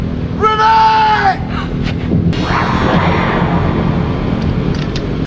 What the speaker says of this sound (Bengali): হঠাৎ একটা জোরে গুলির শব্দ।